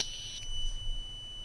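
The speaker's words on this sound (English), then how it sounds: "When I release the gas from the lighter, the LED will turn on and the buzzer will sound." A gas sensor module's buzzer sounds when lighter gas is released, giving a steady shrill electronic tone that holds briefly and cuts off, leaving a faint lingering whine over a low background hum.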